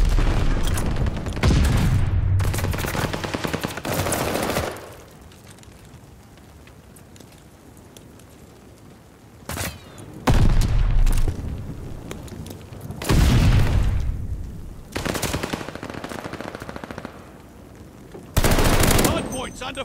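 Rapid automatic gunfire from a hardpoint match in a competitive video game scrim, loud and close, arriving in several dense bursts separated by quieter gaps.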